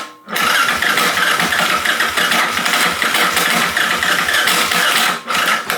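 A Yamaha Raptor 660 quad with a worn starter clutch cranks loudly and close up, a harsh grinding whir that runs for several seconds, dips briefly near the end, then resumes.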